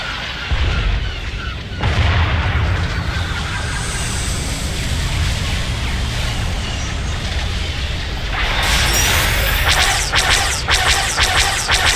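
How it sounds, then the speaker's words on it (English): Starship weapons fire in Star Wars: The Old Republic during a space blockade battle makes a loud, constant roar of booming blasts and whooshes, with a rapid burst of sharp cracks near the end. "Fancy ships are opening fire."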